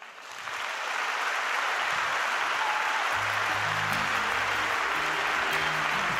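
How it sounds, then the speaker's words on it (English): An audience at the NWX19 New Work conference applauds to welcome Ricardo Semler on stage, a broad wash of clapping swelling in and holding steady, with low stage music entering partway through. "give a warm round and a big round of applause to Ricardo Semler"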